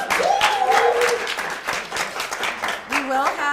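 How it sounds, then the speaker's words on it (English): Guests at a certificate ceremony clap for the catering staff, a lively round of many hands mixed with voices and a few cheers, with a person's voice rising over the applause. "So let's give them a round of applause."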